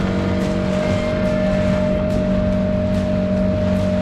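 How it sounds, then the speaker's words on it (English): A continuous low engine drone with a steady thudding rhythm from a helicopter coming in near a harbour in the Caribbean, loud and unbroken throughout. "There's a helicopter coming in."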